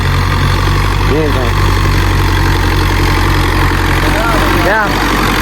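A tractor engine idles in a field after rain, a loud, steady low rumble and vibration filling the whole stretch, with a person's voice briefly rising over it a couple of times.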